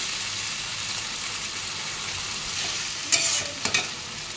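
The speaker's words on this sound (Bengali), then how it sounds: "এবারে এটা ভালো করে কষাবো" Mutton sizzles steadily as it is stir-fried with spice paste and a splash of water in a pan, with a couple of sharp spoon scrapes near the end.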